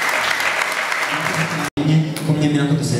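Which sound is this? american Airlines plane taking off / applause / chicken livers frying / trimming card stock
applause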